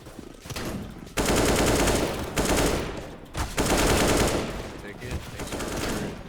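Rapid gunfire from a video game shooter comes in loud, dense bursts with short pauses between them and fills most of the stretch, with faint voices barely showing underneath.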